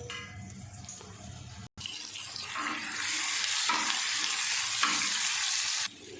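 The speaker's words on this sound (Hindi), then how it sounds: "घी गर्म हो गया, अब इसमें डाल देंगे 1 टेबलस्पून भर के अदरक और लहसुन का पेस्ट।" Ginger-garlic paste drops into hot ghee and breaks into a loud, steady sizzle with faint scraping and stirring, continuing at a constant frying hiss.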